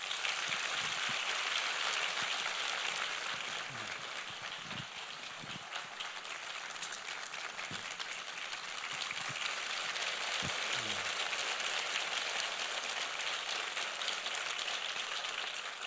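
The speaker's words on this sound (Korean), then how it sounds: "박수로 환영해 주십시오" A church congregation applauds to welcome a missionary speaker, a steady wash of many hands clapping that continues evenly throughout, fairly soft and diffuse, with occasional faint voices underneath.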